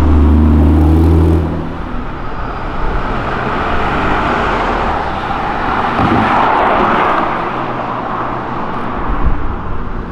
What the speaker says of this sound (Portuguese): com um carro que o pneu faz mais barulho que o motor